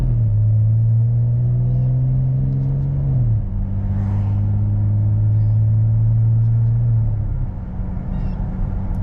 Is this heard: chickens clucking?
no